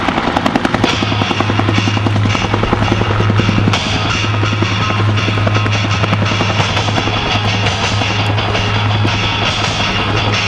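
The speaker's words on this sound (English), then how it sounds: "Ladies and gentlemen, watch as the Marines fast rope from the Huey." A Huey helicopter hovers at an air show during a Marine fast-rope demonstration, its rotor thumping loudly and continuously with a strong low engine hum throughout.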